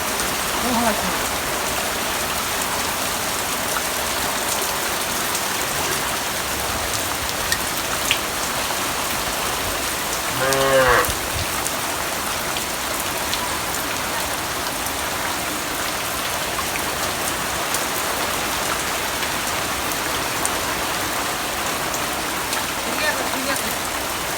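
Heavy afternoon rain during a storm, a dense steady roar of rainfall on surfaces that continues unbroken, with a brief muffled voice partway through.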